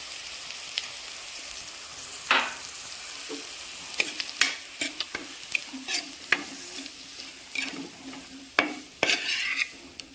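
Masala frying in a pan for a coconut-milk fish curry, a continuous low sizzle broken by repeated sharp scrapes and clinks of a spatula stirring against the pan, with no voices.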